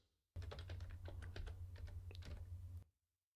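Clattering keystrokes on a computer keyboard, typed in a quick uneven burst for about two and a half seconds over a low steady hum, close and alone with no talking.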